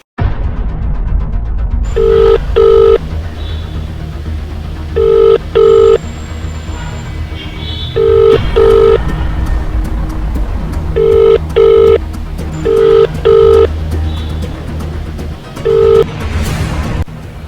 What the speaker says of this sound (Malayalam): സെമീറ ഞാൻ എത്ര നേരമായി എൻ്റെ ഫോണിക്ക് വിളിച്ചിട്ടുണ്ട്